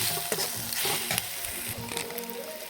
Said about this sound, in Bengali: এবার এর মধ্যে দিয়ে দেবো লবণ, হলুদ গুঁড়ো। এটাকে ভালোভাবে মিশিয়ে নেব।